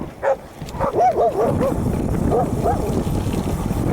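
Several aggressive dogs bark and yip in quick, excited bursts from behind a gate along historic Route 66 over a steady rumbling background, fairly close.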